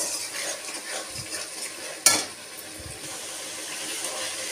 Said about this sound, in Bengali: এবার আমি মশলাটাকে ভালো করে কষিয়ে নিচ্ছি।